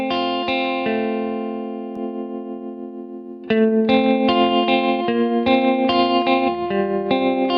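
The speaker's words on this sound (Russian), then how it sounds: "Вот звук без педали тремоло." Clean electric guitar without a tremolo pedal plays sustained, ringing chords through an effects unit, a steady strummed passage with a louder restrike midway and repeated chord changes, no talking.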